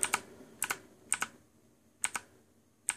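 Sharp clicky mechanical keyboard keystrokes come in short pairs and small bursts with brief pauses between, close and crisp, with no voices.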